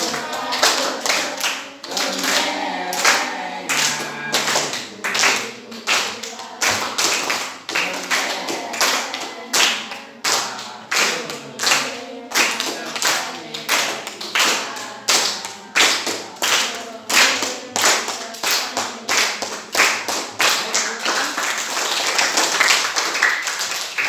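A group in a school coaching session claps hands in rhythm for about twenty-four seconds. The claps come in steady, repeated bursts, loud and close, with no speech over them.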